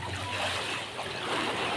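Sea waves wash at the beach in a continuous, soft rushing roar that may be mixed with wind, with no one talking over it.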